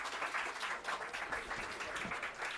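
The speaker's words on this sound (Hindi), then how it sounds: "एक बार जोरदार तालियों" An audience at a Delhi government schools event claps to welcome a speaker, a steady, fairly faint patter of many hands throughout the short stretch.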